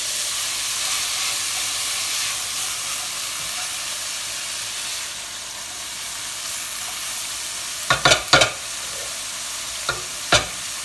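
Shredded cabbage frying in a pan for pork chops, a steady close sizzle and hiss running throughout, with a few sharp clinks or stirring knocks near the end.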